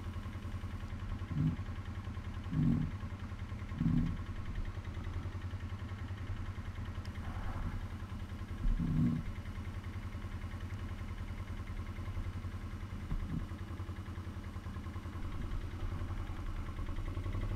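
A 2008 Can-Am 650 engine runs at a low, steady rumble while riding home, with several brief thumps rising above the drone and no talking.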